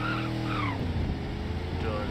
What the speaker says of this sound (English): Do a little tire spin.